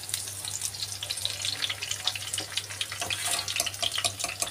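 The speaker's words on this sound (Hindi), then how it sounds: "अब इसको कर रहे हल्का फुल्का सा फ्राई।" Lotus stem (kamal kakdi) pieces shallow-frying in hot oil, a dense continuous close sizzle with fine crackles and a low steady hum beneath, no voices.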